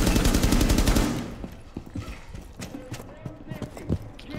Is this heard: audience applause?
no